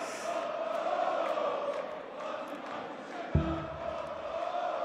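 German darts crowd in a big arena keeps up a steady roar of cheering and chanting with music behind it, plus a sudden low thump near the end.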